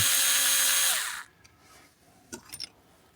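A powered driver unscrews a small screw on a van's trim panel, a brief close whir that stops after about a second, followed by a few light clicks and handling sounds.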